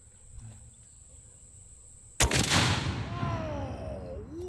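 A Solothurn 20mm anti-tank rifle with a big magazine fires one huge, close shot that booms out and rolls away into a long, fading echo, with a faint high tone lingering before the blast.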